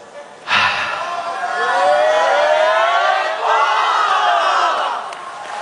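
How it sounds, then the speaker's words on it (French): A regional team's delegation shouts its war cry at the WorldSkills 2023 opening ceremony in Lyon, a loud sustained crowd roar with rising and falling chanted voices, swelling midway and holding before easing off. "Alors allez-y, faites votre cri de guerre."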